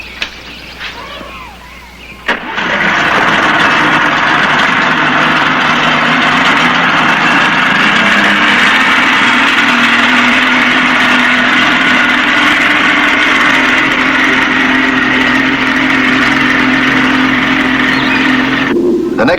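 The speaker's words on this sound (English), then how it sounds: "Now you start your engine." Boat or outboard engine in an underwater patrol action drama, cranking briefly, then starting and running at a steady, loud drone for the rest of the clip.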